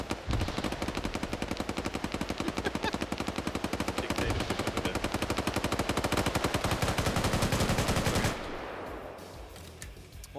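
Automatic gunfire in a PvP shooter pours out as a long, dense, rapid burst that keeps a constant rhythm for about eight seconds. It then cuts off abruptly, leaving quieter background ambience.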